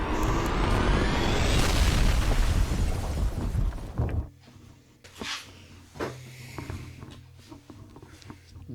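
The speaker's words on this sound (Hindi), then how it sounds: "और हमेशा की तरह इस जगह को भी बम से उड़ा देता है।" A bomb blast destroys a location in a survival challenge, starting as a loud, dense roaring boom with crackling debris for about four seconds, then fading into scattered clatter and small pops.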